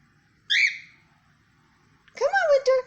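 A pet cockatiel whistles and sings, with one short bright chirp followed after a pause by a longer warbling whistled phrase, close and clear over a quiet background.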